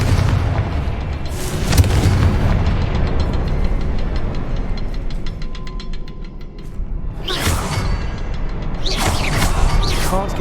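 The Confringo blasting curse explodes in the Hogwarts Legacy video game, heard as loud, deep booms and rushing whooshes that burst early on and again near the end.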